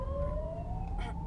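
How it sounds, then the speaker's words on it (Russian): An ambulance siren wails steadily with a slowly rising pitch as it passes, loud and close, over a low rumble of road noise. "Да, скорая промчалась."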